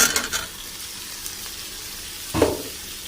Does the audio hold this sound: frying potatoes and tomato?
yes